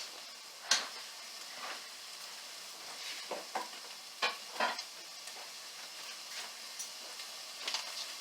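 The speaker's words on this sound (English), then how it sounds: "Give this a stir." Garlic and lentil curry with radish greens being stirred in a pot, a faint steady sizzle broken by soft scraping strokes and light clinks of a spoon, quiet and without speech.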